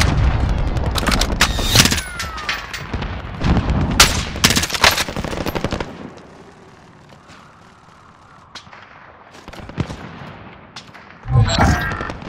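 Bursts of automatic gunfire and sharp shots in Call of Duty: Modern Warfare, loud clustered volleys over the first six seconds, then a quieter lull before another close burst near the end.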